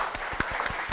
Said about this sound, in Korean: 큰 박수로 청해보겠습니다